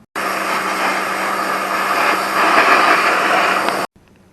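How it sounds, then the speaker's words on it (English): A pressure washer blasts water over an old lawn mower, a loud, steady roaring spray that runs continuously for several seconds and then cuts off abruptly, leaving near silence. "we're going to bring the pressure washer to the mower"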